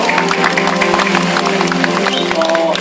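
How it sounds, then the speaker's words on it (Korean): Church small-congregation audience at a small-church fair applauding to welcome a children's dance teacher, steady continuous clapping from a crowd throughout, moderately loud with a faint murmur of voices underneath. "박수로 맞이해 주십시오"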